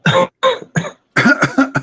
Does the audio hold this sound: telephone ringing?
no